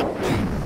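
Bomb explosion in a Roblox video game, a short, loud, muffled low rumbling boom with a windy rushing tail.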